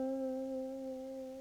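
A single sustained blues guitar note with a gentle, slow, even vibrato rings steadily and clean, fading slightly over a second and a half with no other sounds.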